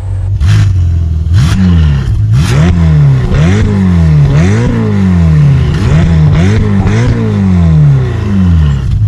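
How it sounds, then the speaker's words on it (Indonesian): Ferrari convertible engine revving repeatedly through a quad exhaust, loud and close, with rising and falling pitch sweeps in a steady rhythm and no talk. "quad exhaust yang diklaim Ferrari memiliki soundtrack merdu layaknya mobil Ferrari pada umumnya"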